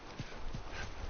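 Horse hooves clip-clopping in a video game, a steady run of soft muffled thuds repeating at an even pace under a constant background hiss.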